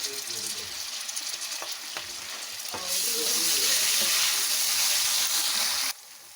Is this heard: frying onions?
yes